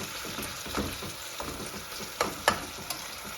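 Garlic and ginger cubes frying in a pan of hot oil for chicken biryani, a steady dense sizzle with scattered crackles and a few sharper pops near the end, no talking.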